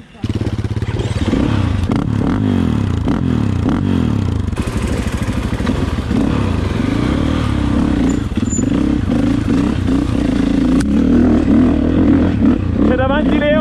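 A 2020 Husqvarna FE 501 enduro motorcycle engine rumbles loud and close throughout a ride, with revs rising and falling and clattering over rough ground, while a rider talks over it.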